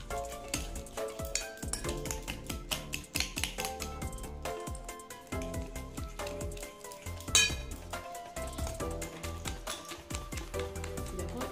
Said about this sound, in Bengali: ফেটিয়ে দিচ্ছি ভালো মতন।